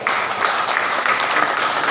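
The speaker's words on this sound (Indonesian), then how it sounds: "Ya kalau boleh tepuk tangan buat narasumber." A talk show audience claps for a guest in a brief, dense burst of applause that stays fairly loud and even throughout.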